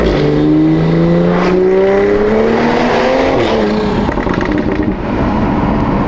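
Toyota Supra fitted with a drag pack and beadlock wheels launches hard, its engine screaming up through rising revs, loud and close, with a brief shift and rough roar trailing off.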